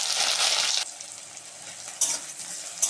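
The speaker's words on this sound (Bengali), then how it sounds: "তেল দিয়ে দিচ্ছি, এবার বেগুনগুলো দিয়ে দিচ্ছি।" Eggplant pieces drop into hot oil with a bright, hissing sizzle that is loud at first, eases back, then flares again in short bursts near the end, with no voices.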